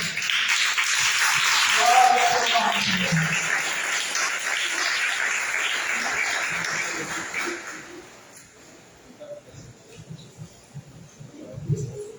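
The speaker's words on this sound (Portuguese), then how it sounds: "Vamos esperar com palmas para o Senhor?" A church congregation claps steadily for the Lord, a broad wash of applause that fades after several seconds into scattered voices and murmured praise.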